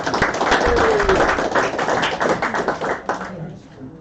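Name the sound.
applause for the first place crew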